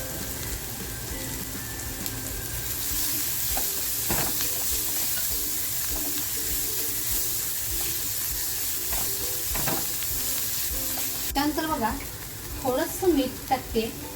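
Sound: chopped garlic and chilli frying in a pan

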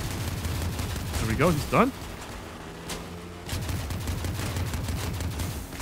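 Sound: minigun firing in video game Crossout

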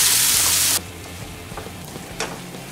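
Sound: coarsely ground spice masala frying in ghee

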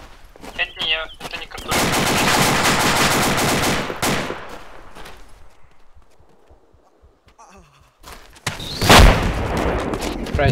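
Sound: gunfire in the video game ArmA 2

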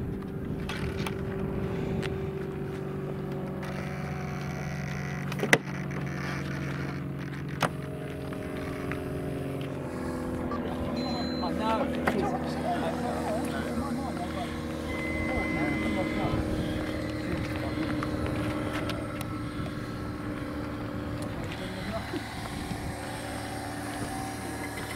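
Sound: model Eurofighter Typhoon jet with KingTech 160 turbine flying

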